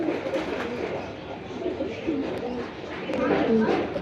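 A pair of pigeons coo repeatedly at close range, soft throaty calls overlapping with steady background noise and a faint voice at a pigeon seller's stall.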